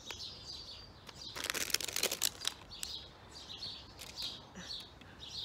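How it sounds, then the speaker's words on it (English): Outdoor birds chirp and tweet busily at moderate distance, bright repeated calls scattered through the clip with a short burst of rustling or crinkling near the start. "The birds are going crazy behind me."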